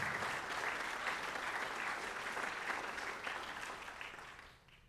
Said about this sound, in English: Ladies and gentlemen, let's give a round of applause for Bella Jamie as she signs her letter for